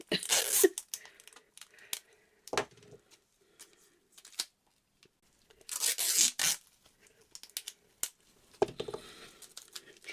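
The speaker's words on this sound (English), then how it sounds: "Now of course I can't get the tape off." Adhesive tape is peeled and pulled off a surface during a resin bowl craft, coming as a few sharp tearing rips in short bursts between quiet pauses and small handling rustles.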